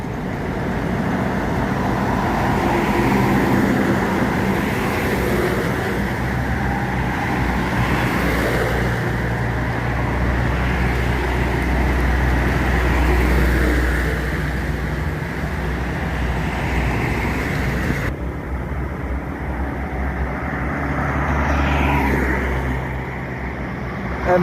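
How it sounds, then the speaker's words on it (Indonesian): Heavy road traffic roars by steadily and loudly for the whole stretch, a continuous rumble of vehicles passing close with no talking. "Rombongan truk-truk banyak kali itu."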